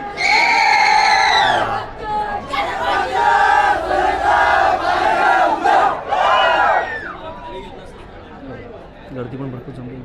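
Loud crowd at the Holtya Hom burning-wood festival game in Sawarde village, Konkan, with shouting and cheering voices swelling in waves, then easing to a quieter murmur near the end.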